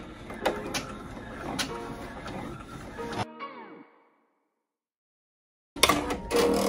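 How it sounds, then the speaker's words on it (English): An embroidery machine stitches an appliqué tack-down on a hoodie, a rapid mechanical whirring and tapping that stops for about two seconds of near silence, then starts up again abruptly. "Now it's gonna do the tack down stitch."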